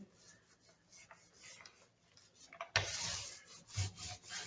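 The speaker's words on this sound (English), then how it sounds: "you can use the roller right on that" A paint roller with a 1/2 inch nap rubs and rasps over the molded trim of a shaker-style cabinet door, quiet at first and then louder and closer for the last couple of seconds.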